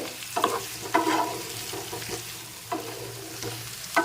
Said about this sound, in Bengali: মশলার সাথে নেড়ে চেড়ে মিশিয়ে নিচ্ছি আর কিছুক্ষণ একটু নেড়ে চেড়েও নিতে হবে